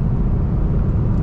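BMW 730xd 7 Series (G11) accelerating hard on kickdown on the road, a steady, loud low engine and road rumble heard from inside the cabin, with no talking.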